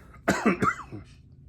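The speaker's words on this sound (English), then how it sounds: "See, got that stupid cough." A single close cough, a short burst of two or three harsh hacks over about a second, then quiet.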